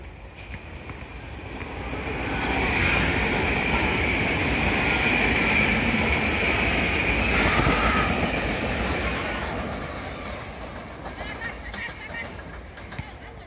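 A SEPTA Regional Rail train rumbles past at close range, its roar swelling over a few seconds, holding steady, then fading away, with a faint wheel squeal partway through.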